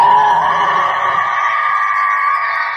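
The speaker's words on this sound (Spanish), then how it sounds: "Se oyeron alaridos espeluznantes al comienzo, que fueron cambiando a chillidos aterradores de una mujer." A wounded monster's screams turn into a woman's terrified shrieks: one loud, sustained, piercing wail that holds steady throughout with no pauses.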